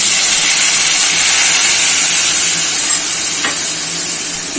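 A paste of crushed ginger and ground cumin hits hot oil, producing a loud, steady hissing sizzle that holds evenly throughout, close by and without any speech.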